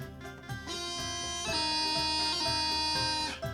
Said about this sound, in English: Now we're going to add the E doubling, or the E grace note at the end.